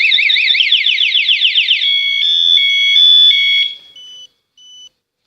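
An Alarm King motorcycle alarm remote sounds a loud warbling electronic beep alarm, then shifts to steady high tones that stop and give two short final beeps.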